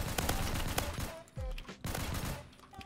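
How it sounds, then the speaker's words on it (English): Gunfire in the Roblox shooter Phantom Forces, a burst of rapid close shots, a short lull with a low thud, then more shots. "I shoot my teammates instead of who I'm supposed to be shooting"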